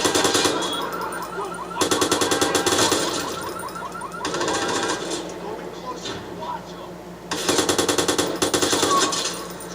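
Rapid automatic gunfire in the Watch Dogs video game comes in loud clattering bursts of repeated shots, separated by quieter stretches of game noise.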